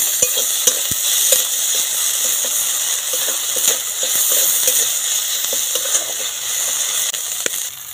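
Cumin seeds, chopped green chilli and tomato hitting hot oil in a kadai, a steady loud hissing sizzle with occasional light clinks and stirring scrapes, close and continuous.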